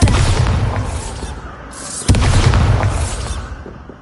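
Two heavy booming blasts from the Bombarda explosion spell in Hogwarts Legacy, loud and close, each a sudden roaring burst that rumbles and fades.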